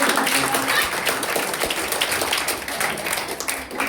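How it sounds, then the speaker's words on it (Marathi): Audience applause at a school word competition, a dense, steady round of clapping from a crowd that carries loud through the whole moment, with a voice faintly mixed in. "टाळ्या वाजवा."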